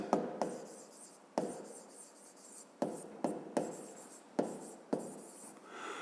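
A pen writes on paper during a physics lesson at a desk. It gives soft, close scratching strokes in irregular bursts, each starting with a light tap against a quiet background.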